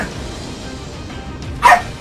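A single dog bark, sharp and fairly close, rising briefly out of a quiet background near the end.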